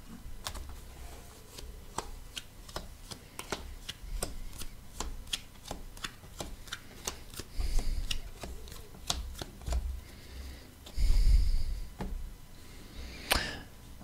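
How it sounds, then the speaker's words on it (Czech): Tarot cards being shuffled by hand in a steady run of sharp, rhythmic clicks and flicks, close and fairly quiet, with a few louder rustles near the end. "já si tady budu teď míchat kartičky"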